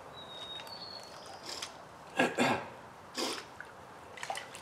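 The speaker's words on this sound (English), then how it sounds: "Sorry about the coughing and hacking in the video" A quick pair of harsh coughs followed by another single cough, fairly close, during gold prospecting, over a quiet background with faint dripping and a thin high whistle early on.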